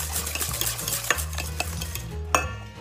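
Apple cake batter being mixed in a bowl, with soft repeated scraping and stirring strokes and a few clinks of the utensil against the side.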